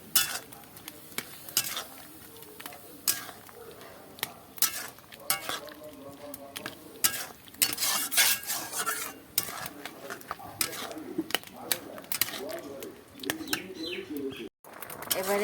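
A spatula stirs boiled hog plums in a pan for a chutney, producing frequent close scraping and clattering strokes in an irregular rhythm, with faint background chirps.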